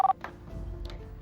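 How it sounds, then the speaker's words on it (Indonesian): A telephone is dialed: a short sharp keypad tone opens, followed by faint clicks and a low background hum. "Sekarang suruh dia telepon Bu Lia atau Pak Utama."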